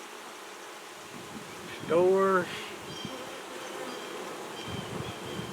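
Honeybees hum in an opened hive during a swarm-control inspection, a steady close buzz with one louder bee droning past; someone speaks briefly.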